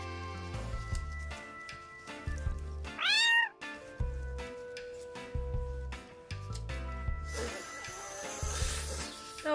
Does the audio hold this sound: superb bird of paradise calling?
no